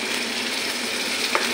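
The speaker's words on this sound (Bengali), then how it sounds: "মশলাটা ভালো করে কষে নিই।" Spice paste of green chilli, Kashmiri chilli and onion fries in a pan, a loud steady broadband sizzle filling the whole moment with a faint scrape of stirring near the end.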